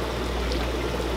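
Boiling water pours steadily into a measuring cup in a kitchen, a close, continuous splashing stream that stays even for the whole moment, with no voices.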